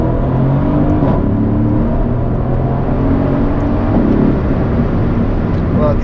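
Mercedes C63 AMG engine pulling hard while overtaking on an open road, a sustained loud droning roar with rising tones heard from inside the car, with occasional brief talk over it.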